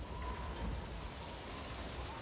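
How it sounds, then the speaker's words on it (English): Rain in the Metal Gear Solid 5 video game falls as a steady hiss over a low rumble, even and moderately loud throughout. "now you notice it's started to rain"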